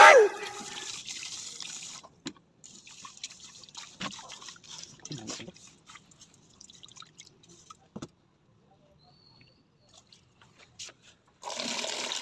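Running water washes food in a home kitchen, splashing and trickling in uneven bursts with drips and pauses, a stronger gush at the start and again near the end.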